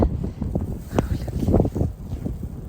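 Gusty wind buffets the microphone in low, uneven rumbling bursts, loud and close, with no clear talking.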